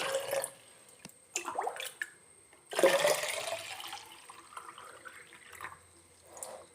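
Water is poured into a bottle, giving a faint splashing gurgle in a few uneven surges, close but quiet, with no talking.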